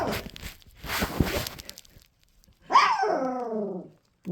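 A three-week-old Irish Cream puppy lets out a loud, high yelping bark after scuffling and rustling noises, with a brief pause between them and another sound starting at the very end.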